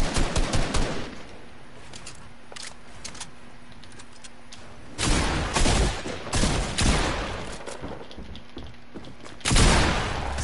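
Gunfire in the Fortnite video game: rapid bursts of automatic shots at the start, a long heavy volley in the middle, and a final loud burst near the end, with quieter stretches between.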